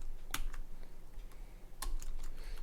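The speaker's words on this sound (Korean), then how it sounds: "제가 이거를 이렇게 한번" Fingers typing code on a computer keyboard, soft quiet key clicks in irregular bursts with a couple of sharper, louder keystrokes standing out against a faint low hum.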